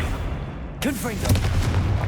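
A Confringo blasting curse from Hogwarts Legacy fires with a sudden whooshing burst and crackling echoes, followed by a low rumbling boom, loud and close over game ambience.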